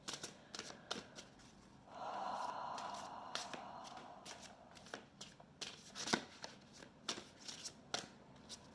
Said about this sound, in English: I'm really feeling Kali and Algol right now as I'm shuffling this